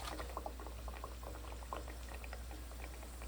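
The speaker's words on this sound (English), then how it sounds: "Okay, so now it's time to start frying." Flour-coated garlic fish and shrimp frying in hot oil, giving a steady, close sizzle with scattered pops and crackles throughout, with no talking.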